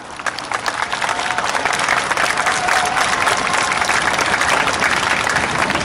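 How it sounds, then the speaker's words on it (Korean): Large crowd at an outdoor memorial rally applauding steadily, a dense continuous wash of many hands clapping that holds loud and even from start to finish, with scattered cheers mixed in. "힘찬 박수 부탁드립니다"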